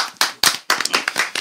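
A burst of hand clapping at close range, several sharp claps in quick succession with brief gaps, loud and with no talk.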